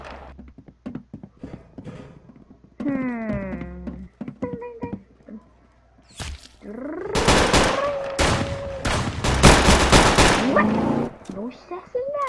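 Gunfire from the Roblox game Arsenal, sharp repeated shots in bursts among game effects and music, loud and close, with a voice talking at points.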